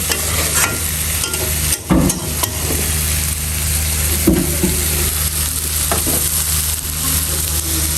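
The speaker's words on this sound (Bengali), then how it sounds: "ডালটাকে ভালো করে ভাজা ভাজা করে নিব" Masoor dal fries in a pan with whole chillies, a steady close sizzle broken by the scrape and clatter of a spoon stirring the lentils.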